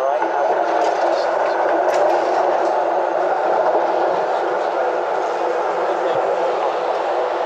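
A tram rolls through Melbourne's city centre with a steady, loud, continuous rumble and rattle that carries on throughout.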